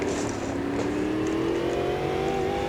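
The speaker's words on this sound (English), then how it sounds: "But I do love the way that engine sounds." A 2023 stock car engine in the racing game Automobilista 2 drones steadily and loud, its pitch climbing gradually as the car accelerates, with no talk over it.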